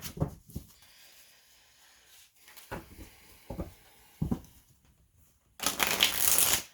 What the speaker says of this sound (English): it doesn't always give you, like, a very clean shuffle when you're doing it this way